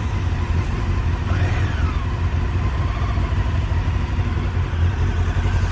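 A larger motorcycle pulls away during rider training and accelerates, its engine rising in pitch over a steady rumbling drone from nearby, with no talking.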